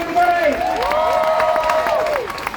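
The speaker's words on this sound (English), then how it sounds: "Big round of applause, everybody." A crowd at an outdoor Palestine rally in Melbourne claps and cheers, with scattered claps under prominent sustained whoops and shouted voices for a couple of seconds.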